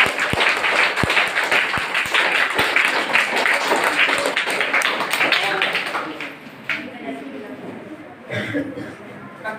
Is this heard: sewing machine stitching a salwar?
no